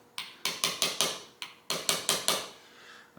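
A hammer strikes metal parts of an Industro-Lite vertical mill head assembly in sharp, ringing taps, a group of four, a single hit, then four more, close and distinct in a quiet workshop.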